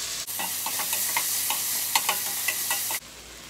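Chopped tomato frying in a pan for mutton liver gravy, a steady loud sizzle broken by soft clicks of stirring, with no talk, cutting off abruptly at the end.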